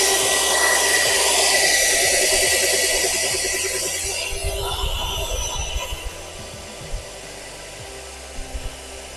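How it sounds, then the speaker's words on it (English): An electric whisk churns resin in a pot for a resin bound driveway, a steady close whirring that gradually fades and gives way to a few light knocks and scrapes. "Then the whisk is applied."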